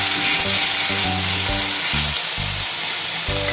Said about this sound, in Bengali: গ্রেট করে রাখা মূলোটা আমি দিয়ে দিই